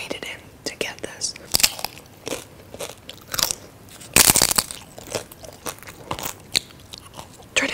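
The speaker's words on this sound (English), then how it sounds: "I'm going to eat this with chips" Tortilla chips with Chipotle food are bitten and crunched close to the microphone, sharp crisp bursts at an irregular pace with chewing between them, and soft talking in the gaps.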